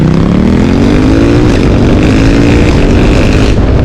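A loud, close Ducati Diavel or Monster motorcycle engine revving, its throaty exhaust rising in pitch and then holding a rough, rumbling drone.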